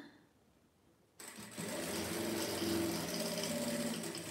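A sewing machine backstitches fabric bias strips, starting after a quiet moment with a sudden close mechanical whir that then runs steadily and loudly to the end.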